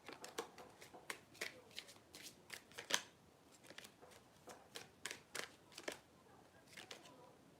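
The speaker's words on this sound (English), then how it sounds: "I keep shuffling and pulling the same cards." Tarot cards being shuffled in a rapid series of crisp riffling bursts, fairly close and moderately quiet, with no talking over them.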